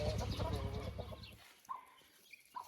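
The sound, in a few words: broody hen clucking with her chicks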